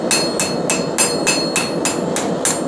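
Hot steel being hammered into a pan at the anvil, with steady, evenly spaced metallic blows, about eight ringing strikes in under three seconds, loud and close with no talking.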